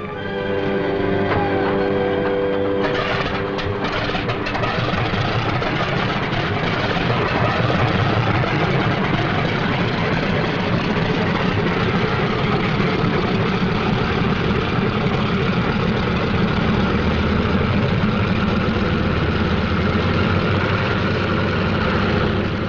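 WW2 P-51 Mustang fighter planes taking off in pairs, their piston engines a continuous loud, dense roar that holds steady throughout, with a brief rattling surge near the start.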